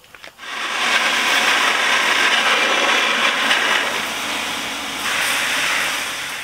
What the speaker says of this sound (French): On va remplir le seau.